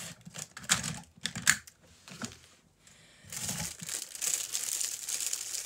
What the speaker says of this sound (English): So I'm going to trim that off.